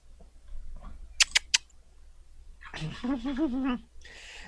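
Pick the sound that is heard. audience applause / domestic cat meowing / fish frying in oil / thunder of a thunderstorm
domestic cat meowing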